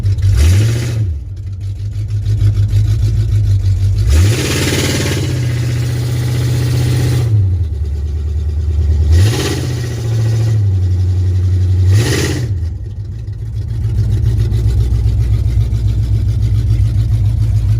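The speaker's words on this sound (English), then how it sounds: "Pretty loud with open headers." A loud, rumbling car engine with open headers and the exhaust removed idles and revs up several times in bursts, with a raw, throaty roar between steadier idle stretches.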